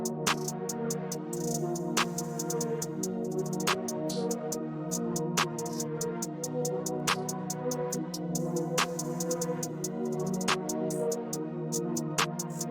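Rapid hi-hat ticks run steadily over a warm, filtered musical bed in an FL Studio ambient trap beat, with a brighter accented hit roughly every second and a half.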